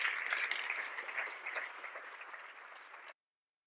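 Dense, steady applause from a seated audience at a public research-institute meeting with citizens, a continuous wash of many hands clapping that fades slightly before stopping abruptly.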